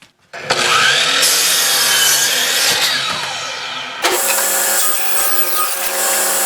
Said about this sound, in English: So I'm going to get a board ripped to fit in there.